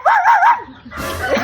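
A dog lets out a single loud, wavering bark or yelp lasting about half a second, close by, followed by quieter shuffling background noise.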